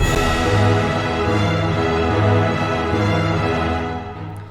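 Orchestral music made in FL Studio, with dense sustained strings and brass moving through a 4/4 bar followed by an abruptly shortened-feeling 5/4 bar, loud and full, tapering at the very end.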